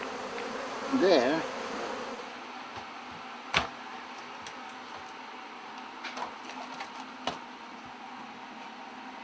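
Winter honeybees at an open hive, a soft continuous buzzing backed by a few sharp clicks and knocks from handling the frames, with a brief voice near the start.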